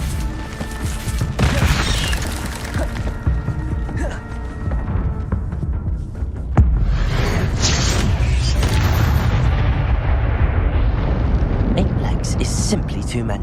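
An Incendio fire spell cast in Hogwarts Legacy, heard as a loud, dense burst of flame and impact noise. A sharp hit is followed by sustained roaring crackle and booming over ongoing game sound effects, with a voice speaking in the clip.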